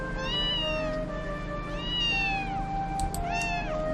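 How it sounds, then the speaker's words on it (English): A cat meows repeatedly in the visual novel game Princess Evangile, with three drawn-out, wavering meows rising and falling over a steady background music bed, close and clear, with no talking. "the cat smelled it and walked right up to me."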